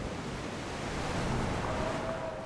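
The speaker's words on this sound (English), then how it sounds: "The waves was just very choppy," Choppy open-sea waves in freezing weather, a continuous low rumbling wash of surf and wind noise, moderately loud with no voices.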